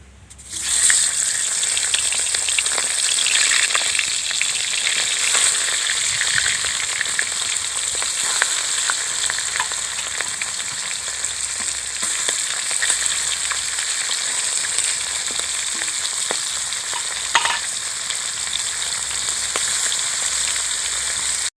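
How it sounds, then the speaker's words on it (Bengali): Hilsa fish pieces fry in hot oil in a pan, giving a steady, bright sizzle that crackles continuously at close range, with occasional sharper pops and no talking. "এবার মাছগুলো কড়াতে দিয়ে দিচ্ছি।"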